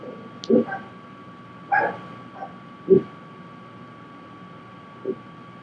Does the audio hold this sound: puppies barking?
yes